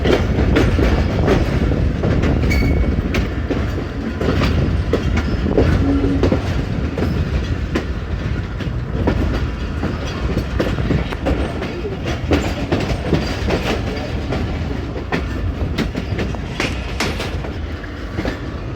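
The Hazara Express passenger train runs on rails with a loud, continuous rumble and rhythmic wheel clatter, heard close up and without any voices.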